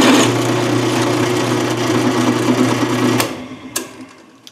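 Drill press boring a hole with a 3/8 inch bit through a workpiece held in a fixture, a steady close motor whine for about three seconds before spinning down, followed by a faint clink.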